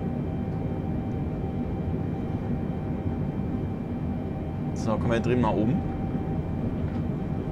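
A flight simulator airplane drones on steadily in a Meta Quest 3 virtual reality session, a constant engine hum with someone speaking German briefly over it.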